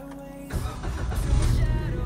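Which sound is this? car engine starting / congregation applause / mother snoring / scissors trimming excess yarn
car engine starting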